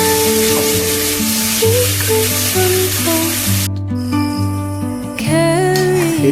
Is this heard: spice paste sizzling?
yes